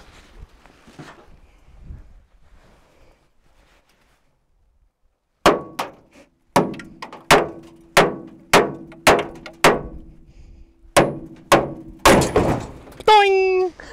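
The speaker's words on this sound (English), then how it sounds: "we'll give it a hammer and we'll give it a tap" A hammer tapping on a car suspension nut outdoors in the bush, a series of about ten sharp metallic clangs at a steady pace, each ringing briefly, after a quiet stretch with faint talk.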